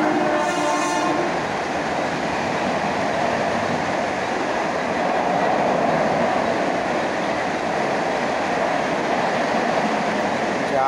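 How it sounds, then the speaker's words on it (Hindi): A train rolls past close by, its horn sounding at the start before a dense, continuous roar of wheels and carriages that stays loud and steady to the end. "ट्रेन आती है ना आवाज़ आता है।"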